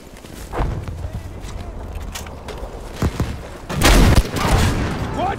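Tank cannon fire in the video game Battlefield V, heavy booming blasts amid gunfire and battle noise, with a loud burst near the end, close and dense.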